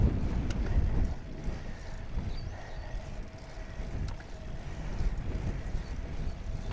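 Headwind buffets the microphone while a tandem bike is ridden in Portugal, a constant rough low roar with gusty swells that briefly ease before building again.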